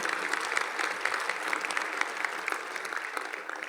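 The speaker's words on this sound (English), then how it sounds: "Please give them all a round of applause" A crowd claps steadily throughout, a dense sustained round of applause with no voices over it, at a conference.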